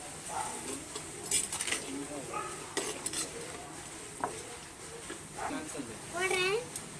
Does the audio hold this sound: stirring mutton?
yes